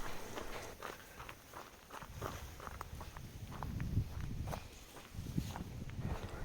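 Footsteps crunch at a steady walking pace along a forest path in the Jawadhu Hills, close and fairly soft over a light outdoor background.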